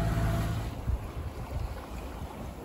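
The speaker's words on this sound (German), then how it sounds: "jetzt unter Segeln. Es sind riesige Wellen und es schaukelt" Sailboat under sail through big waves near Kythnos in the Cyclades, with a steady rush of wind and water, low rumbling wash and wind buffeting the microphone throughout.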